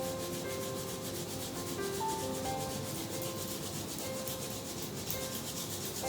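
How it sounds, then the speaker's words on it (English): Steady, continuous friction of palms rubbed briskly together during a yoga eye-care routine, an even dry swishing that runs unbroken and close, with no talking. "Rub your palms."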